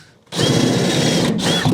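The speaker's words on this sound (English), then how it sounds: "Now, will it fit in here to re-drill the hole the rest of the way?" Power drill re-drilling a bolt hole on a rusty Dodge W150 truck, whirring steadily and close for over a second with a brief dip partway through, no talking.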